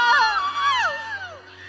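Kim Pao Squad fans shout and cheer together, a bright burst of excited voices and whoops close by that fades slightly over under two seconds.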